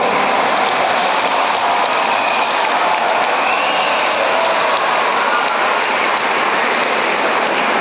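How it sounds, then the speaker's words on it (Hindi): Dense, steady applause from a large crowd of schoolchildren at an outdoor festival event on river and water conservation, sustained and loud throughout with no pauses. "जोरदार तालियां अपने लिए बजा लीजिए पहले तो"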